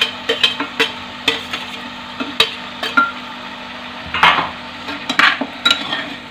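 A spoon stirs potatoes and tomatoes in a pan of aloo baingan sabzi, giving irregular metallic scrapes and clinks against the pan over a faint low sizzle, close and fairly loud, with no talk.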